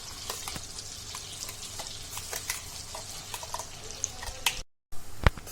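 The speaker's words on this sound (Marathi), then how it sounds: "आपली ग्रेव्ही थोडी शिजू देऊया एक दोन तीन मिनिटं परतवा" Blended onion-tomato gravy for a veg kolhapuri curry, with cinnamon pieces, star anise, cardamom and a chilli, sizzles and crackles steadily in a pan while being stirred, with a brief dropout near the end.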